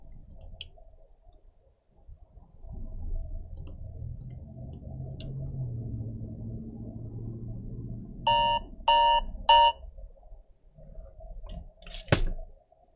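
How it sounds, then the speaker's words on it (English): A loud alarm clock goes off in three sharp, bright bursts of beeping, followed by a final shrill burst, over a quiet room with a low hum and a few faint clicks. "That was my alarm."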